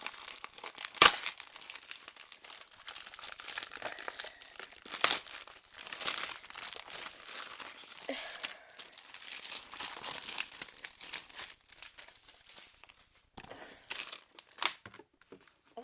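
A Lego Ninjago trading card packet is torn open and handled, making close, crackly plastic crinkling and tearing in irregular bursts with quieter gaps between.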